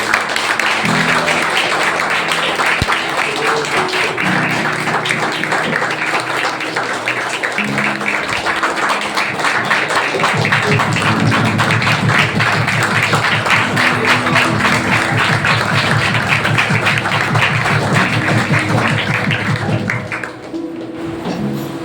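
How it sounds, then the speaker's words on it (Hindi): A church congregation at a Sunday service applauds loudly and steadily for about twenty seconds, with dense, sustained clapping and low rhythmic thumps underneath, tapering off at the end. "आइए पवित्र आत्मा का जोरदार तालियों के साथ हम धन्यवाद करें।"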